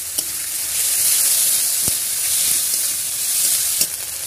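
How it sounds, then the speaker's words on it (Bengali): Onions fry in hot oil with a continuous bright, close sizzle, punctuated by a few brief taps of the spoon against the pan. "এই পেঁয়াজ আমি তেলের উপরে ছেড়ে দিচ্ছি। একটু ভাজা ভাজা করে নিচ্ছি।"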